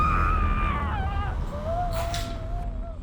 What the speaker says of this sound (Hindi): ये भी ना बहुत चिल्लाने लगी है।